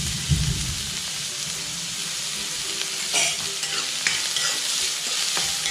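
About two sliced onions with a pinch of salt sauté in a hot pan, a continuous close, loud sizzle with occasional light clicks of stirring for a chicken samosa filling.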